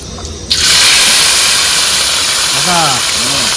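A sudden loud sizzle bursts in and keeps hissing steadily as salted, turmeric-rubbed fish is dropped into hot oil; a voice speaks briefly near the end.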